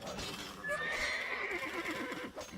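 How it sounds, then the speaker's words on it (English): A horse neighs in Age of Empires during a Warlords 3 tournament match, a clear whinny with clip-clopping hooves moderately close amid the game's battle ambience, with no talk over it. "Blue's horse is still alive."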